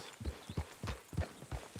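Horse hooves in Red Dead Redemption 2 clip-clop at an even walking pace, five or six soft, close thuds spaced about a third of a second apart with nothing else over them.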